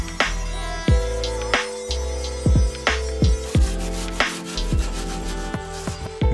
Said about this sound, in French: La meilleure façon d'éliminer la rouille surfacique est de la poncer et de mettre le métal à nu.